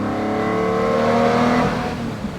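A Lamborghini Murciélago SV's V12 engine revs loudly and steadily up close, a dense, harmonic-rich roar that builds slightly and then eases off over a couple of seconds.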